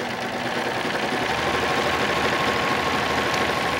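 A serger sewing machine stitches lace along a fabric edge with a steady, close mechanical whir that runs without pauses and without voices.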